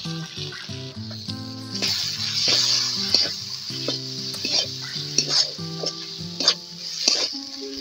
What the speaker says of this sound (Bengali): এরপর বেটে রাখা কাজু দিচ্ছি।